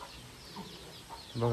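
Chickens and chicks on a village farm in the Konkan region give a brief, close burst of clucking at the end, with a voice speaking over it.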